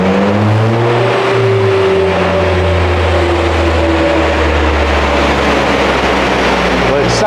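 Volkswagen Golf Mk2 with a chipped ABF 2.0 16V engine running on a rolling road dyno, a loud, close, sustained engine note whose pitch climbs and sags as it revs, with no pauses throughout.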